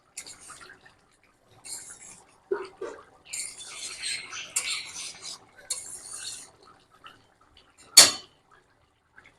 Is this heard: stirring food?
yes